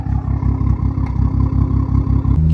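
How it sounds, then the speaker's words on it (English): A straight-piped BMW M240 with a B58 engine idles loudly up close, its lumpy, choppy exhaust pulsing in an uneven rhythm, with a brief shift in tone just before the end. "The M240 with the B58 literally sounds cammed."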